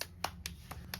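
Four quick, faint hand claps ring out evenly spaced in a quiet indoor room, each one short and crisp.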